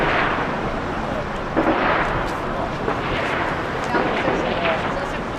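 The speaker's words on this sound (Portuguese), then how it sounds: "Começou o tiroteio de novo." Gunfire crackles in a Rio de Janeiro favela, Rocinha, as a few distant shots and booms sound under steady noise, with a reporter's voice talking over them.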